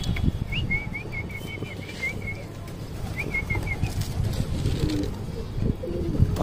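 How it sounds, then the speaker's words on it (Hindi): Pigeons on a rooftop pecking up grain, giving repeated soft cooing calls in two short runs over a steady outdoor background rumble. "कितने कबूतर भूखे हैं और काफ़ी तेज़ी के साथ दाने उठा रहे हैं छत से"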